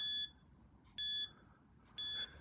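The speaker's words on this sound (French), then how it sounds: "Et là vous entendez un bip à chaque seconde dans les 10 dernières secondes pour le départ." Electronic countdown beeps from a rally codriver stopwatch app, three bright high-pitched tones about one second apart, each a short sustained bleep, clear and fairly loud over a quiet background.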